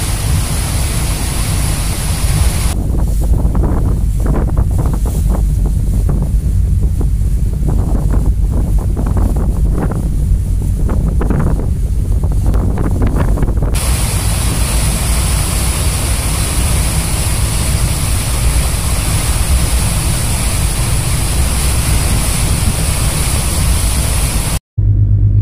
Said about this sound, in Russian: Наш теплоход Александр Радищев сейчас идет в том месте, наверное, самом широком месте, где Кама, река Кама соединяется с Волгой.